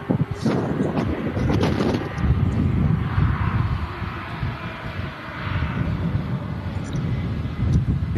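An EasyJet airliner rolls down the runway for takeoff, a steady broadband engine roar with wind buffeting the microphone, loud and sustained throughout with a brief murmur of talk.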